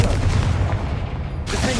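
A Confringo spell from the video game Hogwarts Legacy lets off a heavy booming blast with a low rumble that carries through, then a fresh crackling burst near the end.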